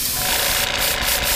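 A paint spray gun blows out compressed air while the chamber is being cleared, giving a continuous loud close rushing hiss with a few brief pulses near the end.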